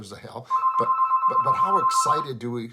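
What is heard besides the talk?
phone ringing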